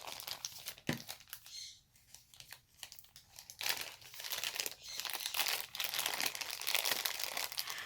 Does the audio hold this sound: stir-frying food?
no